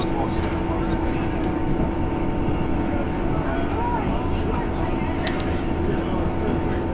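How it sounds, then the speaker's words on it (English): Train rolling along a railway line near old sidings at Garsdale, a steady, continuous low rumble heard from onboard, constant and unbroken throughout with faint higher clatter over the top. "On the train."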